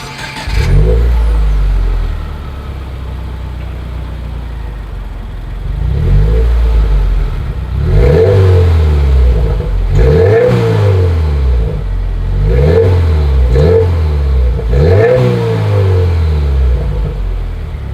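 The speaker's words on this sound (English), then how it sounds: "as always, here is that exhaust clip" A 2020 Subaru WRX Limited, US-market, has its exhaust revved repeatedly from behind, loud and close, with a steady idle broken by several rising, falling revs in a regular rhythm.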